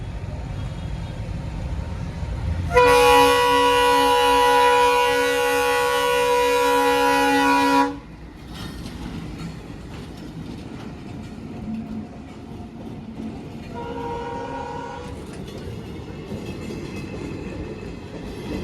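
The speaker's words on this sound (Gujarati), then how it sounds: "અત્યારે મિત્રો ટ્રેન આવે છે તો ચાલો ભાઈ ટ્રેન શૂટ લઈ લઈએ. આમથી આવે છે." A passing train in Gujarat sounds a loud, sustained horn for about five seconds, then rumbles past with rail clatter, and a second shorter horn blast follows.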